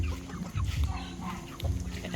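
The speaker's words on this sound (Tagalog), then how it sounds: "pakain muna tayo ngayon ng ating mga alagang manok" Pet chickens, including silkies, at feeding time give soft low clucks and brief honking calls in a few bursts, close by and fairly quiet.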